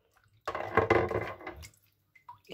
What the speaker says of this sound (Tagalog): kailangan mahugasan din siya. Kasi alam nyo, iba ang tubig ilog at tubig ng ano gripo